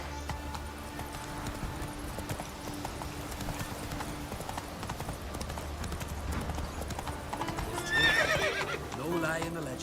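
In The Witcher 3, the horse Roach gallops with a rapid, steady clip-clop of hooves, and a sharp whinny breaks in near the end over a low game background.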